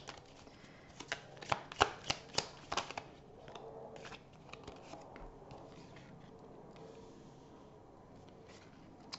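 Tarot cards are shuffled close by, a quick run of crisp riffling slaps and flutters that settles into softer, quieter rustling and sliding, with no talking.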